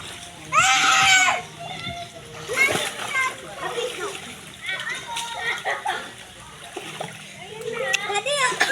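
Water splashes and splatters repeatedly as a child plays at a seventh birthday party, with excited children's voices and shouts mixed over the sloshing throughout.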